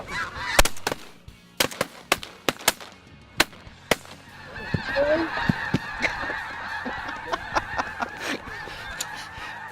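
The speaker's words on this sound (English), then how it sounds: "I don't know how many big flocks that is now, but we just keep raining birds" A large flock of snow geese honks busily through foggy air. Many overlapping calls are cut by sharp, loud cracks. The dense honking swells in the second half.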